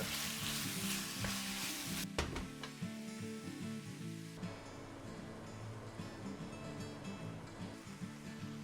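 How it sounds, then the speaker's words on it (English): Venison mince and onions sizzle steadily in olive oil in a pan, a dense continuous frying hiss with intermittent stirring scrapes and clatter, loud and close with no talking. "My mince. And my onions. Stir."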